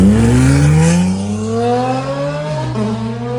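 A sports car engine revs up close, pitch climbing smoothly through the gears with a throaty exhaust note, then dipping and climbing again.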